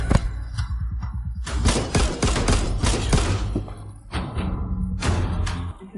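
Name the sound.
Type 51 pistol gunshots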